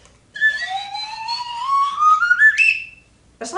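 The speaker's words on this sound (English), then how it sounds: "a slide whistle." A slide whistle played in one long rising glide, loud and close with no other sound, then a brief further note at the end.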